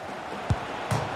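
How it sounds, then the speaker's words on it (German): A football striking the goal post in the video game FIFA 22, heard as two short dull thuds about half a second apart over a steady stadium crowd murmur. "Da prallt er vom Pfosten zurück ins Spiel."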